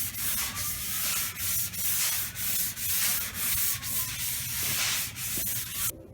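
A sanding block with 180-grit paper rubs over primer on a car quarter panel in steady back-and-forth strokes, each pass a rhythmic rasping swish, close and clear with no speech.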